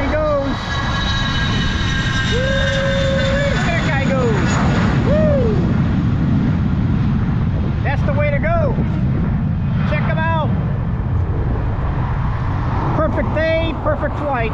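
A jet aircraft takes off near an island airport as a loud, continuous roar with a rising high whine, heard from a nearby outdoor spot while people talk intermittently.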